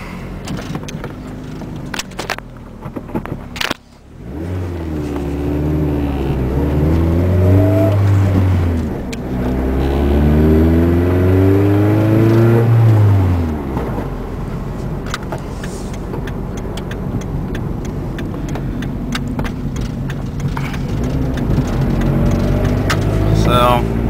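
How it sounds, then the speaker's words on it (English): A 1996 Dodge Neon drives around the block; the engine revs up and climbs through rising pulls, then settles into a steady cruise, with some handling noises and someone speaking over it. "just going to drive it around the block"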